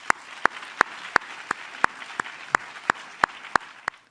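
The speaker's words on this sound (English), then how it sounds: "So please give Clarice and Kara and Lady Sasha and Dr. Khalil Gibran Muhammad, and in his absence, a round of applause." Evenly spaced single claps, about three per second, sharp and distinct over a quiet room at a Caribbean lecture-series event, sounding more like one or a few people clapping than a full crowd.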